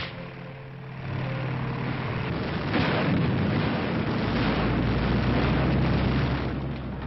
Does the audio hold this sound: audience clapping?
no